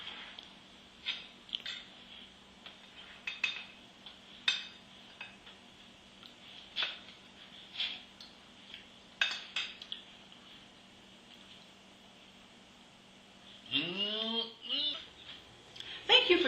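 A spoon clinks against a dish of double-crusted peach cobbler in a home kitchen, with scattered light metallic taps spread across the clip, then a brief scraping flurry near the end, faint and close.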